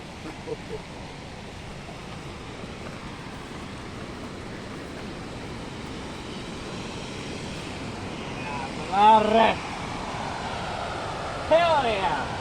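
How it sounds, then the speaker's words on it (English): Two waterfalls in a Swedish national park, heard as a steady broadband roar of falling water throughout, with brief louder bursts near the end. "That is a waterfall and a half."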